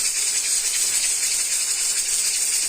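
Garlic and red chili powder frying in hot oil, a bright, steady sizzling hiss close up that runs evenly without pause, no talking.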